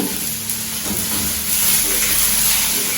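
Sliced onions and curry leaves frying in a pan of hot oil give off a steady, close, broadband sizzle with no talking.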